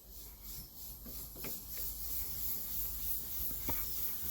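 Wet sandpaper rubs over the paintwork of an Austin Princess car in quiet, uneven scraping strokes, faint and close, with no voices.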